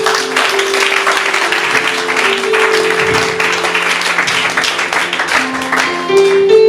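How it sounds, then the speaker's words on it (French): Church congregation at a Christian sermon applauding, dense overlapping claps with a sustained organ or keyboard chord underneath, loud and continuous throughout. "Acclamez pour vous-même."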